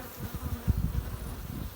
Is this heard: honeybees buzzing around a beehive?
yes